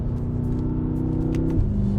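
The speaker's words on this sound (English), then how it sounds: "You got a little bit of good, you know, exhaust note. You get a little bit of engine." A BMW M6 Gran Coupe's engine and exhaust hold a steady, deep rumbling drone that shifts pitch slightly near the end, loud and close with no voices.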